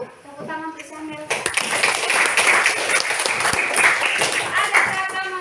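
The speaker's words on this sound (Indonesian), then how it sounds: "tepuk tangan untuk Syamil" Pupils in a classroom break into lively applause, a sudden burst of many hands clapping close by that continues steadily, with children's voices heard briefly before it starts.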